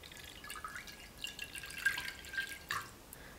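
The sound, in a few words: pouring spinach juice into a bowl with egg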